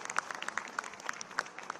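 Audience applause at a National Youth Day event in India on youth as job creators, greeting a college group chairman from Dehradun; steady, fairly faint clapping from a crowd with no speech over it.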